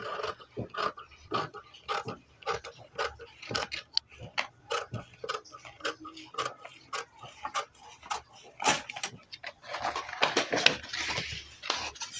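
Scissors cutting blouse fabric for a 28-inch chest katori blouse, a run of small crisp snips and fabric rustles close by, quiet and steady with faint talk.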